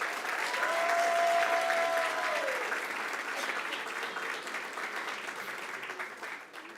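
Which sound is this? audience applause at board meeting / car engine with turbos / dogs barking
audience applause at board meeting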